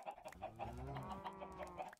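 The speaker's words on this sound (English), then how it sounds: "Oh, there are so many chickens." Chickens in the Minecraft video game cluck repeatedly in a quick, uneven stream of short calls, fairly close and clear with no talking.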